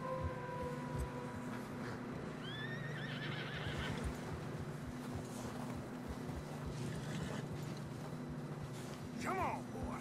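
Horses in Red Dead Redemption 2 whinny and snort over steady clip-clop of hooves, crossing a narrow snowy trail, with a rushing ambient bed beneath and a rider's voice talking between neighs.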